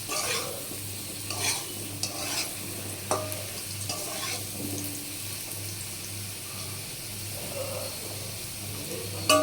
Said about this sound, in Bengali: আলুগুলো আর একটু ভাজা হলে তুলে নেব।